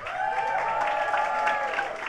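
A crowd at a New York government announcement event applauds a speaker, a steady wash of clapping heard at moderate distance with a voice faintly over it.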